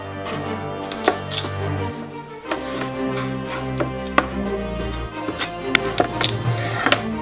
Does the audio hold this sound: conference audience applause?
no